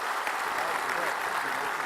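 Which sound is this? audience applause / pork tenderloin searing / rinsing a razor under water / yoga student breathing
audience applause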